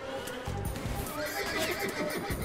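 Horse neighing with clip-clop hooves in the Roblox Wild West game, a loud whinny over rapid galloping hoofbeats, close and continuous, with no talk.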